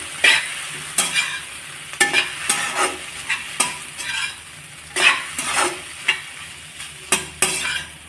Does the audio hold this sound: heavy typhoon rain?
no